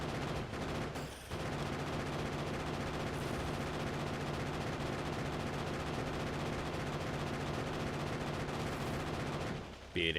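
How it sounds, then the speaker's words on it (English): Machine gun turret firing continuously in the factory-building game Factorio, a dense unbroken rattle of rapid shots filling nearly the whole stretch at steady loudness, easing off briefly near the end. "Listen to that MG."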